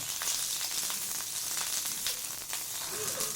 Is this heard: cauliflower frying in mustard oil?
yes